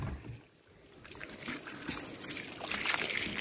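Water being poured into a container outdoors during a family stay in Egypt; a soft, faint trickle and splash that grows steadier and fuller toward the end, with no talking over it.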